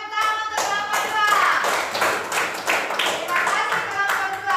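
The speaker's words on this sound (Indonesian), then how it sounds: "tepuk tangan untuk kelompok 2." Classmates clap for a student group in a school classroom during a teaching practice lesson, giving a sustained round of close group applause while a voice talks over it.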